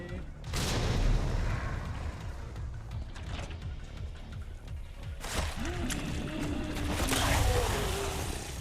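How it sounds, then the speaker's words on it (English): A grenade goes off in Resident Evil 2, heavy booms and blasts layered with game noise and dense action that continues around it, loud and close throughout. "Grenade."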